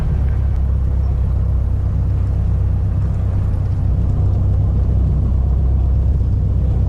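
Small training airplane engine idling low after the throttle is pulled back to 1,000 rpm, a steady loud rumbling drone heard from inside the cockpit, no talk.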